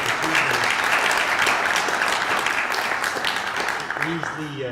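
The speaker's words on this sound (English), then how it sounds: "We owe a big round of applause to Bruce Roeder for bringing us home." Audience applause at the Nelly Bly Awards 2018 ceremony, dense sustained clapping from a full room for several seconds while a voice speaks over it.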